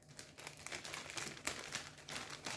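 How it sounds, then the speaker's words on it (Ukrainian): Plastic crinkles and rustles up close in quiet, irregular bursts as it is handled and folded, with no talking. "Зараз запакую назад в пакетик."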